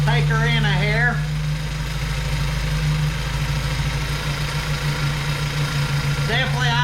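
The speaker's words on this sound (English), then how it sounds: "Definitely idled her up some. Running rough right there." A 1977 Datsun 620 pickup engine idles roughly after a carburetor adjustment, a steady low-pitched drone running throughout, close and fairly loud, with a person talking over it at the start and end.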